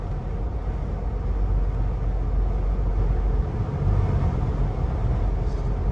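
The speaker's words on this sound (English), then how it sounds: "I'm hearing more wind noise than I am engine noise at this point." Steady broadband rushing noise inside a moving 2021-2022 Ford Bronco with a catback exhaust, wind roar dominating over a low engine hum, continuous and fairly loud throughout.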